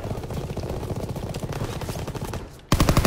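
Rapid submachine gun bursts in Call of Duty WW2, a dense continuous rattle of shots followed by a louder, closer burst at the end.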